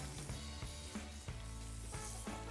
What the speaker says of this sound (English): The first thing you throw in your pan is all the butter.